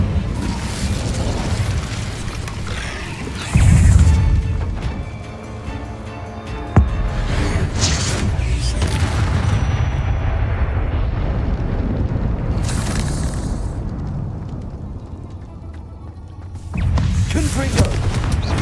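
Confringo blasting-spell explosions go off in the Hogwarts Legacy video game, with several booming bursts over a continuous, loud layer of combat noise and game sound, and a voice speaking at times.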